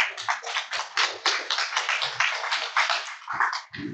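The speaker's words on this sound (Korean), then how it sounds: "큰 박수로 맞아주시기 바랍니다." An audience claps to welcome a speaker at a reconstruction tax seminar, a steady dense patter of hands for about four seconds that thins at the end.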